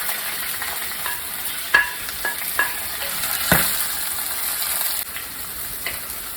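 Onions and green chillies sautéing in oil in a pan for rava upma, a steady soft sizzle with scattered stirring scrapes and clicks of a spatula against the pan, close and moderately quiet.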